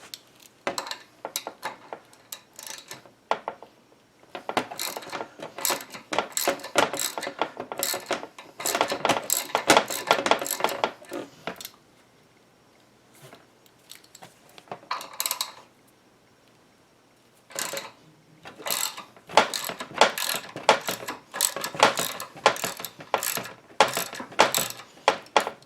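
Tools work at the crank arm of a NordicTrack S22i exercise bike, producing bursts of close metallic clicking and ratcheting separated by short quiet pauses, with no voices.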